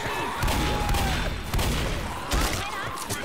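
Dense gunfire in the zombie co-op shooter Left 4 Dead, continuous overlapping shots and booms with brief lulls, loud and close throughout.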